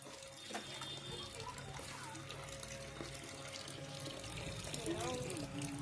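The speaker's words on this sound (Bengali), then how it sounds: "বালতিটা ভরে গেছে।" Tap water runs into a bucket as it fills, a faint, steady, continuous splashing and trickling that rises slightly toward the end.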